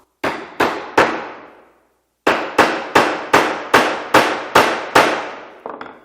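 Mallet or hammer strikes driving a chisel into wood while chopping out a mortise on a precision woodworking joint: three sharp knocks, a pause, then seven evenly spaced blows and a softer final tap, close and loud.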